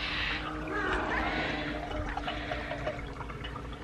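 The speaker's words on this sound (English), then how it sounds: "water fountain is running out of water. It's making an obnoxious noise." A pet water fountain gurgles and trickles continuously with a broad, wet hiss, its irregular sputtering suggesting the reservoir is nearly empty.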